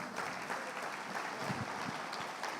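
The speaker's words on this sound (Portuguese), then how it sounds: "Quem pode aplaudir ao Senhor?" A church congregation applauds during an evening prayer service, a faint, steady patter of clapping from a distance with no voices over it.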